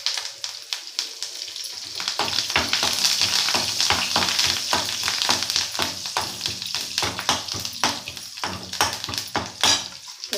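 Curry leaves dropped into hot oil burst into a loud crackling sizzle that pops rapidly and irregularly, close up, then settles into steady frying and stirring with no speech.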